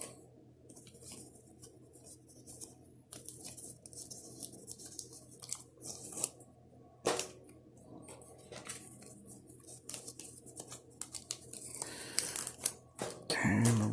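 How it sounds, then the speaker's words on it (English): Tape being peeled off banknotes, heard as intermittent close crinkling, rustling and sticky tearing sounds in irregular bursts over a quiet background, with a sharper rip near the end. "So I'll remove the tape from all of them."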